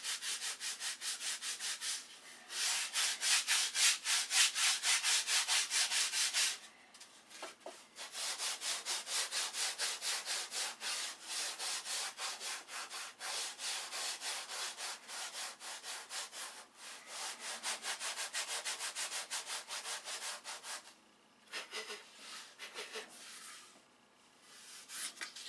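Hand-sanding a piece of wood along the grain: steady, close rasping strokes in long runs with brief pauses between passes, loud and alone.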